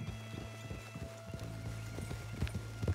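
Steady clip-clop of horse hooves with a whinny mixed in, from the video game Red Dead Redemption II, moderately loud over faint background music.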